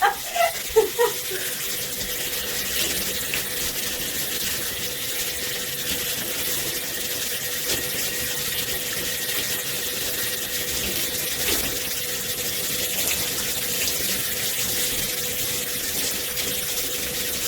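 Water streams steadily from a shower or tap while hair is rinsed at the roots, a constant close hiss of running water with a few brief knocks at the start.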